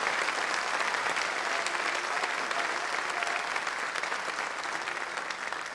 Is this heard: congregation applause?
yes